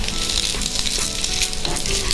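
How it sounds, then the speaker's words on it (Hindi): A semolina and vegetable snack shallow fries in a little oil, giving a steady, close, bright sizzle with faint crackles and no talking. "हमने इसको हल्के हल्के तेल में ही शैलो फ्राई कर लिया है"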